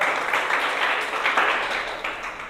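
A church congregation during an Easter service claps their hands together, a full roomful of clapping that swells and slightly fades over a few seconds, steady and moderately loud with no speech over it.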